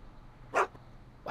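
Einstein the dog from the Back to the Future video game gives two short, fairly faint barks about a second apart over a quiet background.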